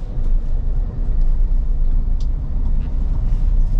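A manual-transmission car rolls along with the throttle held while turning, a steady low engine rumble and road noise filling the cabin without pause.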